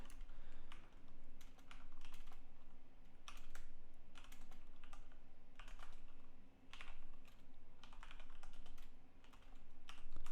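Rapid typing on a computer keyboard during a live coding session, close clicking keystrokes in uneven bursts over a low steady hum, with no voices.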